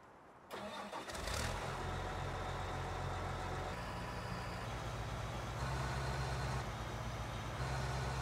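A Case quad track tractor engine in Farming Simulator 19 starts up and settles into a steady, loud, low diesel drone as it pulls, with the pitch stepping up slightly as the load changes.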